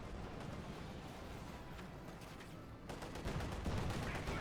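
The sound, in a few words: tank shots in the video game Company of Heroes 2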